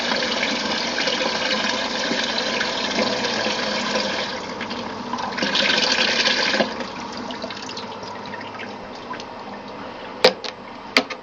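A Simplicity twin tub washer runs a spin spray rinse, giving a steady rushing spray of water against the spinning basket with a mechanical hum, then easing off into a few sharp knocks and clicks.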